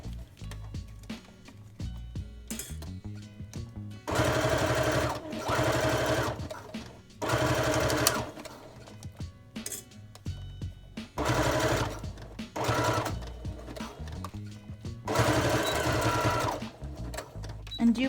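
Sewing machine stitching through vinyl fabric in several bursts of fast, loud mechanical chatter, separated by pauses with a quieter voice speaking between runs.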